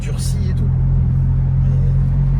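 A lowered Smart Brabus with stiffened suspension cruising along, its engine a steady low rumble heard from inside the cabin, with people talking over it.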